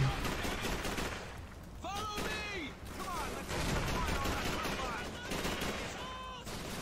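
Bursts of MP40 submachine gun fire rattle in Call of Duty 3, dense and continuous amid a noisy battle mix, with a voice speaking intermittently over the gunfire.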